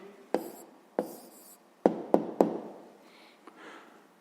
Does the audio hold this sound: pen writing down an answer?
yes